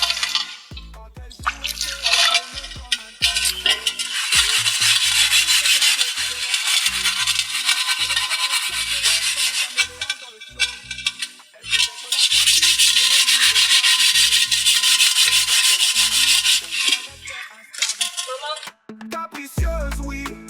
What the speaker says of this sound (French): Et à poncer les marmites, ma part est venue.